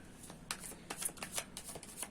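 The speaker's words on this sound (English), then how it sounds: "we're giving everything a really good shuffle" Close-up riffling and slapping of tarot cards being shuffled, a quick series of crisp bursts with brief pauses between.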